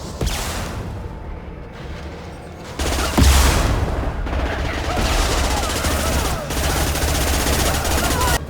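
Exploding rounds fired in a sci-fi shooter video game, heard as a continuous dense barrage of rapid blasts and booms that grows louder partway through, close and heavy with no pauses.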